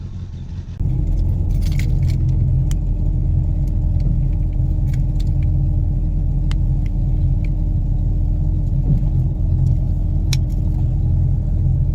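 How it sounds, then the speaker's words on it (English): A 1973 Mercury Cougar XR7 engine with an exhaust leak starts up and settles into a loud, steady low rumble, with light rattling and jingling on top as it runs close by. "it still has that exhaust leak, as you can hear"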